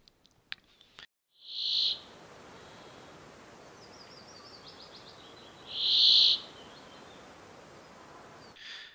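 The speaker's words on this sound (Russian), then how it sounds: "Песня самца очень характерная, скрипучая трель, сочетание с коротким щебетанием." Two short, harsh creaky trills from a brambling stand out against a steady hiss of background noise, with a few faint clicks at the start.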